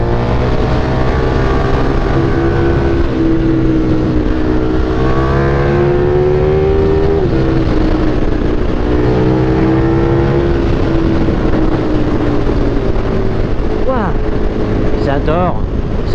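A KTM 1390 R Evo motorcycle engine revs up, its pitch climbing steadily as it accelerates, with a constant roar throughout and a second rise near the end.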